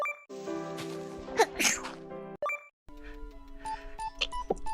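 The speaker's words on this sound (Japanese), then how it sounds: "くしゃみでした。" A single sharp sneeze bursts out from a VTuber streamer, loud and close, over a bed of game music with chimes and jingling tones that carry on around it.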